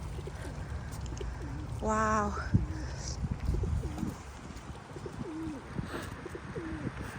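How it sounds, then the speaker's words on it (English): Pigeons coo in a park on a winter morning, with soft low repeated coos scattered throughout, close by, alongside a brief louder call, outdoor ambience and a short spoken exclamation. "So we've got pigeons over here, got ducks over here."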